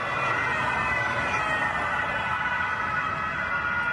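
A loud, steady police siren wails continuously during a chase, filling the whole stretch without pause; no voices.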